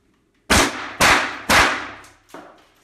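Four sharp, loud blank shots from an StG44 blank-firing rifle, three fired at steady half-second intervals and a softer fourth after a short pause, each cracking with a quick decay and no voices.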